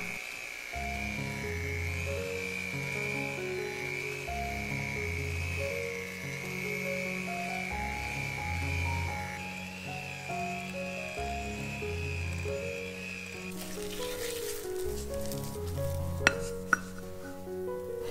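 An electric mixer beats Basque burnt cheesecake batter with added sugar at medium speed, a steady high whine running for about thirteen seconds beneath louder background music, then cutting out.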